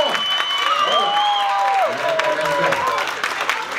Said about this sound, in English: Let me hear you clap like hell.